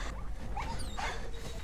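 A dog in the video game Beyond Two Souls gives a few short whimpering yips over a steady, noisy game background, with no voices.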